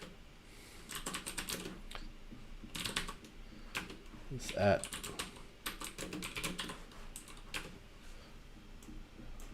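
Keys clatter on a computer keyboard in several quick bursts of close, crisp tapping separated by short pauses, while someone speaks briefly in the middle.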